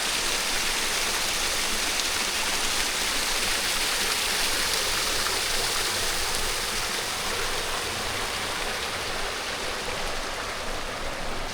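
Meltwater pours out of an ice tunnel near Mattenalpsee Lake in the Swiss winter mountains, a dense, steady rushing roar close by, continuous with no voices.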